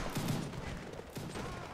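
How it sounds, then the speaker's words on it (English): Cannon fire in the video game Mount & Blade: Warband, a rumbling volley of booms with dense crackling bursts, loud and sustained, overlapping into a continuous battle roar. "Okay, so cannons, fire at will. I want you to fire."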